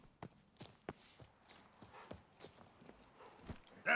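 Roach the horse's hooves clop in a video game, a series of separate, fairly close hoofbeats in an uneven walking rhythm over a quiet background.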